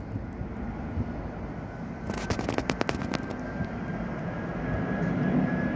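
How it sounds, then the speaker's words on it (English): A plane passes over Stockport, Greater Manchester, in the morning: a steady low engine rumble throughout, with a brief cluster of sharp crackling bursts partway through and the drone growing slightly louder toward the end. "There's the next plane heading over Stockport, Greater Manchester this morning."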